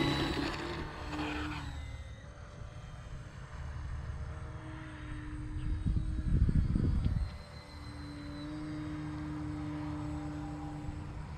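An FMS Nanchang CJ-6 RC model airplane takes off, its electric motor and propeller giving a steady buzzing drone that swells louder for a moment mid-run, then settles back to an even whine over outdoor background noise.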